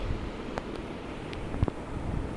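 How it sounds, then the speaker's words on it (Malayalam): Wind blows steadily outdoors as a low, continuous rumble that buffets the microphone, with a few brief knocks and rustles over the top and no talking. "ഈ ഒരു കാറ്റ് വരുന്നുണ്ട്"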